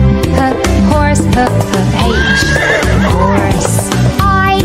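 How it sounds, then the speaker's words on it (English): A horse neighs loudly and close, a long shrill whinny with rising and falling pitch over musical accompaniment, with a few faint hoof clip-clops and no speech. "H is for horse"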